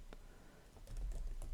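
Quick keystrokes patter on a computer keyboard, a short burst of close, soft taps that grows denser partway through, with no voice.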